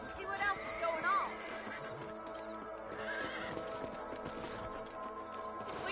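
Horses in a Western open-world video game, hooves clip-clopping at a trot with a whinny and neigh, a continuous rhythmic gait under ambient game sound and music.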